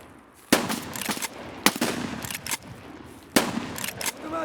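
Gunfire in a shooter video game: three sharp automatic bursts, each followed by scattered single shots and echoes, fairly close, with no talk.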